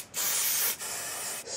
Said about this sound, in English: Next you take your hairspray and you spray the bottom.